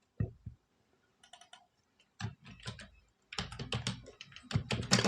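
Keys clatter on a computer keyboard in irregular bursts while a product name is typed, starting with a few isolated taps and building into a dense, rapid run of close clicks.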